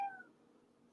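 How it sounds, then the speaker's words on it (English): A single short, faint meow from a cat, quickly fading into quiet room noise. "that's my cat"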